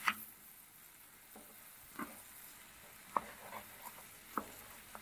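Pittu kothu with egg, vegetables and roasted cumin-pepper spice powder is stirred in a pan: sparse, quiet scrapes and clinks of the utensil over a faint sizzle.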